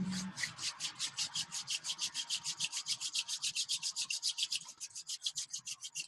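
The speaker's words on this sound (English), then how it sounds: "Rubbing the hands together again." Two palms rubbed briskly together in a quiet room, a close, dry swishing friction repeated in a fast, even rhythm of about five strokes a second, steady throughout with no talk.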